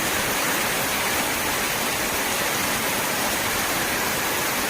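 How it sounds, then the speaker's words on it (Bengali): Heavy monsoon rain, the first of the rainy season, pours down in a steady, dense roar of broadband hiss that stays loud and unbroken throughout, with no voices. "প্রচণ্ড পরিমাণে বৃষ্টি।"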